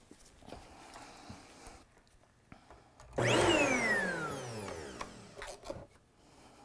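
A Bissell PowerLift Pet 2260 upright vacuum with a reversed air pathway kicks on with a loud, close motor roar after a quiet stretch of handling noises. The whine sweeps downward over about two seconds before the sound settles.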